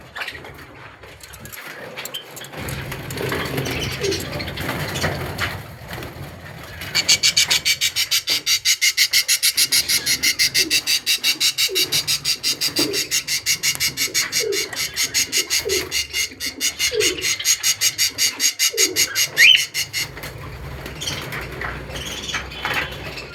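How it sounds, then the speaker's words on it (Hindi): Pigeons coo in a steady, rapid rhythmic pulse that fills the middle of the clip, close and fairly loud against a softer rustling background. "ये कबूतर है। ये कबूतर है, ये चिड़िया कबूतर है"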